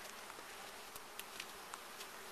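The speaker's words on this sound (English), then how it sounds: "That is a very busy hive." Honeybees buzz steadily at an open, very busy beehive during an inspection, a faint dense hum with a few individual bees passing closer.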